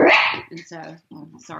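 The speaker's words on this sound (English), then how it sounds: "that's my dog." A dog gives a loud, close bark right at the start, followed by a person speaking in a calm indoor setting.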